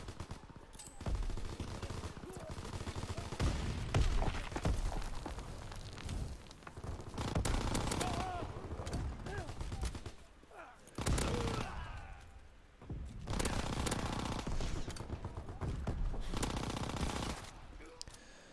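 Rapid automatic gunfire from a first-person shooter video game set in MW3, WW2 or Star Wars Battlefront 2, loud, dense bursts filling most of the stretch with brief lulls between volleys.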